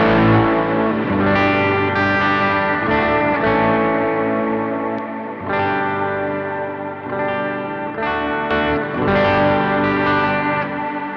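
An electric guitar runs through a compressor pedal into an amp, playing sustained, even chords and notes with a steady level, alone and without talk.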